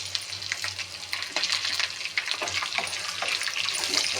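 Curry leaves and chillies crackle and sizzle in hot oil, a dense steady frying hiss with scattered sharp pops, close and fairly loud, with no voices.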